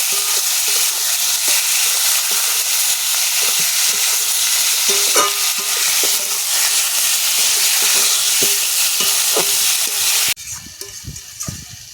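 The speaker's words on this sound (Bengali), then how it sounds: "সব কিছু ভালো করে কষাই করে নেব মাংসের সাথে" Chicken pieces stir-frying in a pan with turmeric and Kashmiri chilli powder give a loud, steady sizzle with scattered scraping clicks of stirring, which drops suddenly to a quieter, sparser crackle near the end.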